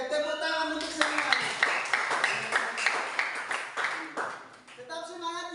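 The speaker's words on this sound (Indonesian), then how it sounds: "tepuk tangan untuk semua" Classroom applause for everyone in an Indonesian junior high school lesson, a burst of clapping lasting several seconds with voices mixed in, fairly near and steady before tapering off.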